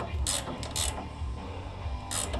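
An 18mm wrench ratchets in a few short bursts of clicks while tightening an upper ball joint on a GM truck, quiet and close, with faint mechanical rattling between strokes.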